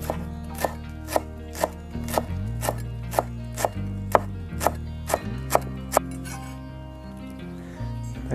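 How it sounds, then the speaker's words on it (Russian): A knife chops dill and parsley on a board for a summer salad of greens and radish, giving a steady run of about a dozen crisp, evenly spaced strikes over low background music. "Так, зелень, редис порезали."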